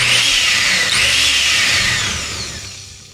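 A Nutribullet Pro 900 blender runs loud and close, a high steady whine from the motor and blades that shifts in pitch slightly, then fades out near the end, with no talk.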